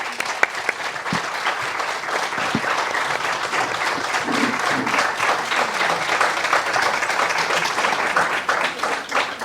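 At the close of a talk about depicting women in comics, a crowd's sustained applause builds into a dense, even roar of clapping that carries on without pause for the full length.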